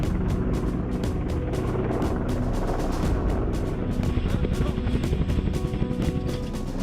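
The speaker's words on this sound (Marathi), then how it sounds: "भारतीय हवाई दलाच्या चिनूक आणि अत्याधुनिक अपाचे हेलिकॉप्टरने आपली" Indian Air Force Chinook and Apache military helicopters fly during an army exercise at Nyoma, a loud continuous rotor roar with rapid rhythmic blade chop pulsing throughout, close and dominant.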